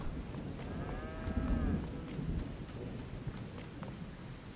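A single drawn-out cow moo in Farming Simulator 22 rises over a steady rumble of rain and low thunder, followed by scattered faint clicks.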